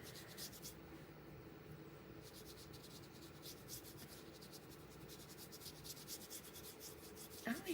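Brush bristles scrub quickly back and forth across canvas while sand-colored paint goes on, a soft, close, rhythmic rasping that continues steadily with no talking.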